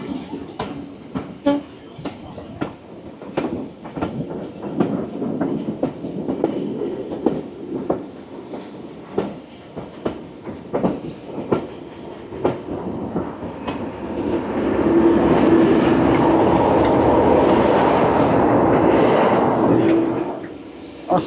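A Class 37 diesel locomotive hauls a train on the Severn Valley Railway, with rhythmic wheel clatter and engine rumble throughout that swells into a louder, sustained roar in the final seconds.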